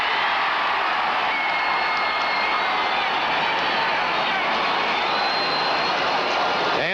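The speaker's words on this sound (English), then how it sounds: "The few Seahawk fans have a chance to cheer here at Texas Stadium" Seahawk fans cheer at Texas Stadium during a 1986 Thanksgiving Day Seahawks at Cowboys game, a steady broad crowd roar holding for several seconds with no talk over it.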